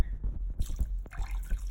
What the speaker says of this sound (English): you get meat, and you can just disinfect it with like some vinegar